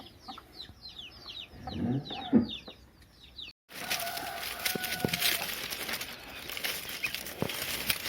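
Chickens cluck and squawk in short bursts close by, followed by rustling and scraping sounds after a brief cut near a palm-leaf bundle where hens hide eggs.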